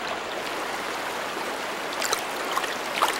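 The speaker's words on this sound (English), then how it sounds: "From the snout of the Gangotri glacier, India's most sacred river starts its long journey to the sea." Ganges headwaters pouring from the snout of the Gangotri glacier at Gaumukh in the Himalayas, a steady, continuous rushing stream with bright splashing texture, close and unbroken, a few small splashes standing out near the end.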